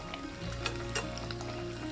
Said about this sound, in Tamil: இதை நெய்யில் வறுத்துக்கலாம்